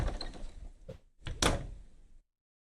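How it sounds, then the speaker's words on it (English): A door sound effect from a visual novel: a muffled thud is followed by a couple of sharp knocking or latch clicks, then abrupt silence. "I was brushing my hair when I heard a knock at the door."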